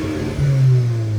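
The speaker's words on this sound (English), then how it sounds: "And if you're gonna rev the car" A Seat Cupra 290 in comfort mode with a cracked cylinder head revs up once from idle, its engine note climbing to a short, strong, steady rise before holding, close and loud.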